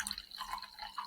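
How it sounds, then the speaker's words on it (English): A drink poured from a can, with a soft trickle and faint dripping, fizzy liquid sounds close by and no talk. "And we'll just pour it, and let's look at it as we pour."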